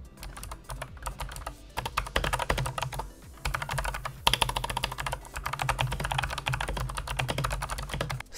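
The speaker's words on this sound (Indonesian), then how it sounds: "tetap clicky seperti switch biru pada umumnya" Rapid typing on a Dareu keyboard fitted with blue optical switches: a dense, continuous stream of crisp clicky keystrokes, close up, with a brief pause midway and no voices.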